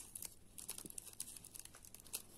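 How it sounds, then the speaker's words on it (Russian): A piece of sticky tape is handled while fixing a plastic cup used for transplanting pepper seedlings, giving faint, close crinkling and brief tearing rustles in scattered bursts, with no talking. "Кусочком скотча."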